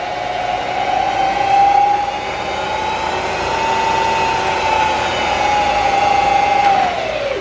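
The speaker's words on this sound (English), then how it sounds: "This is a Bridgeport Series 1 2 horsepower variable speed milling machine." A Bridgeport Series I 2-horsepower variable speed vertical milling machine runs in high range, giving a steady, close motor and spindle whine with a sustained tone that holds evenly before easing slightly near the end.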